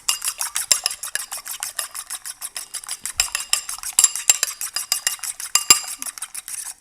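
A whisk beats two eggs in a bowl, a fast and regular stream of bright metallic clicks and scrapes close by, steady for several seconds with no talking.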